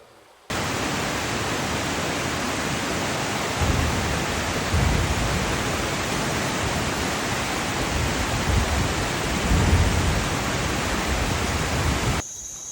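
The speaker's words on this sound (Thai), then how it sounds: "อนนี้ก็เดินทางมาถึงน้ำตกนะครับ" A waterfall at a natural headwater source near Vibhavadi in Surat Thani, Thailand, roars in a dense, steady rush of falling water that starts abruptly and stays loud and unbroken, with slight surges and no talking.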